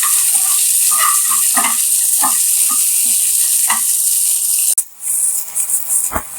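Tomato, ginger and green chilli sauté in a hot pan with a steady sizzle and several soft stirring scrapes, then a sharp burst of louder hissing near the end.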